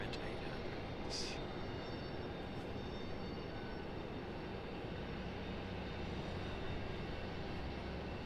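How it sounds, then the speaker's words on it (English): An Air France Boeing 777 with Rolls-Royce Trent 800 engines departing from Raleigh-Durham International Airport, heard as a steady, distant broadband roar that stays constant throughout. "Here's our 777. You guys enjoy the sounds of these Trent 800s."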